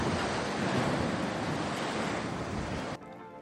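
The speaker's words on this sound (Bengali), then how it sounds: "চারপাশে শুধু ঢেউয়ের শব্দ।" Steady, loud roar of sea waves breaking along the Jeddah Corniche, a continuous wash of surf that carries on without voices before dropping off abruptly near the end.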